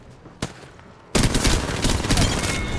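Video game gunfire: one sharp shot rings out, then after a short lull a dense, loud, sustained volley of rapid overlapping shots carries on to the end.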